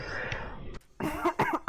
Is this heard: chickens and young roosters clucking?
no